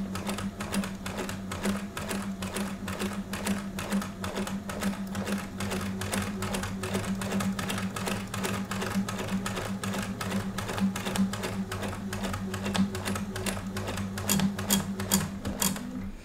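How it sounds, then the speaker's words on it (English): Sewing machine in need of cleaning stitching with a small stitch length and a size 100 needle, a fast steady rattling clatter running close and continuously throughout. "And you hear that sound that my machine started making? That means my machine needs cleaned."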